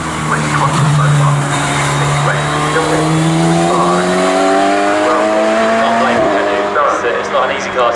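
Radical race car engine at Snetterton circuit, a loud, sustained high-revving roar rising and shifting in pitch as it passes, with commentary spoken over it.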